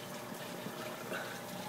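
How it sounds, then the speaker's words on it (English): Water drips and trickles from a homemade PVC sulphur reactor into a waste outlet, a faint, steady liquid patter heard up close with no talking. "You can see that's the drip rate that I have for this reactor."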